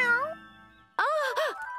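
A cartoon cat meows twice in a bright, toy-like voice, the cries clear and close, following a short stretch of a child-like character speaking.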